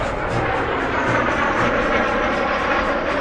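Steady, dense roar of MiG-17 jet fighter engines, loud and unbroken for the whole stretch, a broad rushing drone with a faint rhythmic pulse and no voices over it.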